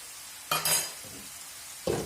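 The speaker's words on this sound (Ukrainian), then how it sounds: "Тепер в мене тут тушиться цибулька разом з моркву" Short bursts of sizzling from a pan of onion and carrot stewing come in two spells, with a light stir or scrape between them against a quiet background.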